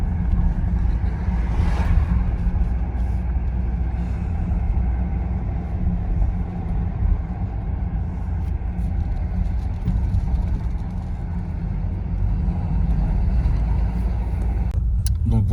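A Mercedes car drives steadily while its automatic gearbox shifts on its own. A constant low engine and road drone fills the inside of the car, with no speech.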